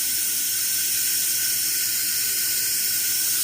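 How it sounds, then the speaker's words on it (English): Steam vents from an Instant Pot pressure cooker holding turkey wings, a loud, steady, continuous hiss with no pauses and no voices over it. "I just released the steam on it."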